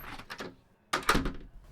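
A door being opened indoors: a short cluster of clicks and a soft thud, a pause, then a louder rattle of handle and latch with the door swinging, fairly close.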